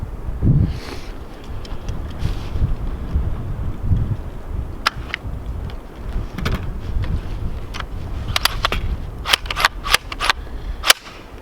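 IWI X95 Tavor rifle firing at steel targets on a range: a handful of sharp, loud cracks spaced out early, then a quick string of shots near the end, with no talking.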